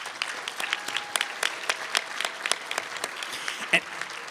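Scattered applause from a dinner audience at a regional chamber of commerce awards banquet, individual claps distinct and fairly close, thinning out with a few sharp louder claps near the end.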